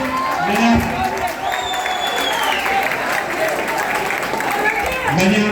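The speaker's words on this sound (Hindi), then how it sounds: "एक बार फिर जोर तालियां बजा दें।" Audience applause at a mushaira, an Urdu poetry gathering in Deoband, India: sustained clapping from a crowd throughout, with a few voices calling out over it.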